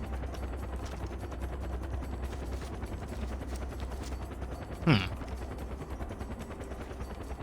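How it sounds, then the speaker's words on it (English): A single sharp rifle crack cuts through the constant drone of a helicopter in the game Far Cry 4, with the rotor hum steady before and after the one shot. "How to take out a helicopter with a sniper rifle."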